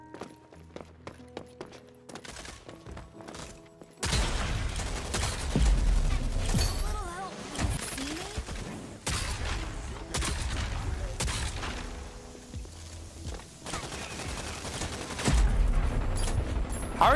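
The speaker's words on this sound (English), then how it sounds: "How are you shooting me right now?" Gunfire in the Rogue Company video game: after a quieter opening, repeated loud bursts of shots and booms come in waves, close and sustained, with scattered footsteps between volleys.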